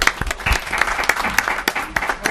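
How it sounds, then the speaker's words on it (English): An audience at a senior advisory committee meeting applauds the police chief, a short burst of loud, close clapping with sharp individual claps over the steady patter. "Let's give Chief Noble another round of applause"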